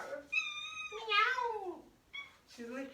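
A house cat meows several times up close, drawn-out, wavering cries with a short pause between them, fairly quiet.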